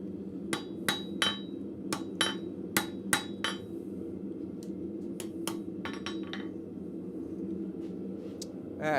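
A blacksmith hammers a square bolt to straighten it, a run of sharp metallic strikes on the anvil, about a dozen ringing blows in irregular bursts over a low steady shop hum.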